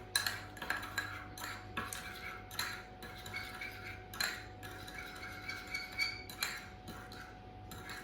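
Spoon stirring caster sugar into a lemon cake mixture in a bowl, a steady run of close, soft clinking and scraping strokes against the bowl, repeated at an even pace with no talking.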